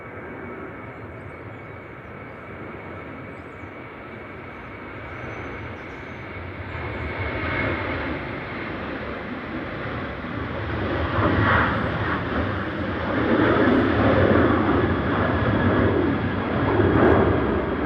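A Ryanair Boeing 737-800 jet airliner roars past at gusty Manchester Airport, its engine noise building gradually from a faint distant rumble to a louder, broad rushing roar over several seconds.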